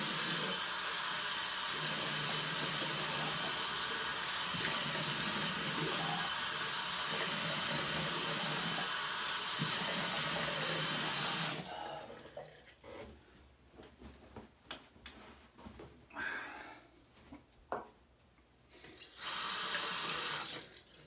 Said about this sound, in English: Go ahead and splash some water on my face.